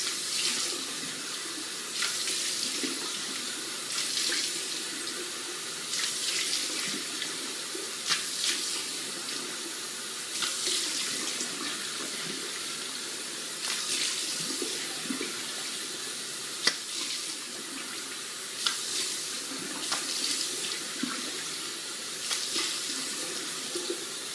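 Tap water runs steadily into a sink for face washing, a continuous close splashing stream with small bursts and no talking.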